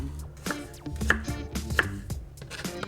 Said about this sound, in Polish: Następnie kroimy jabłka w małe kosteczki.